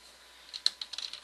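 A computer keyboard is tapped in a quiet room, a faint quick run of light keystrokes in a short burst.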